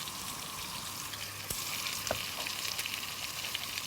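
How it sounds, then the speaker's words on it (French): Veal cheeks browning in a hot pan, giving a steady, close sizzle and fry with a couple of faint clicks and taps over it. "on les fait revenir"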